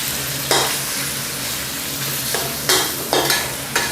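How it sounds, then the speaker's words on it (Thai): Rice and sliced pork stir-fry in a hot pan with soy sauce, a loud close sizzle punctuated by several scraping strokes of the spatula, with no talking. "พอเราผัดมาจนเริ่มเหลืองแบบนี้ก็ใส่เนื้อหมูลงไปได้เลยครับ"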